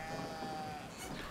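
A single drawn-out sheep bleat from the video game Brothers, fairly quiet and slightly synthetic in tone, over a faint steady background.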